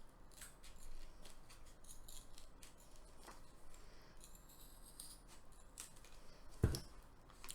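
Scissors snipping through warm Worbla thermoplastic sheet, faint close cuts and small clicks spread across a quiet room, with one sharper snap near the end.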